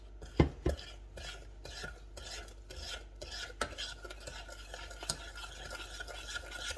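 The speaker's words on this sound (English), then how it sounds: "all that sugar rubbing around in there mixes the cocoa in pretty good" Sugar and cocoa are stirred together in a pot with a utensil, a soft continuous scraping and grinding with a few sharper knocks against the pot, quiet and up close, no speech.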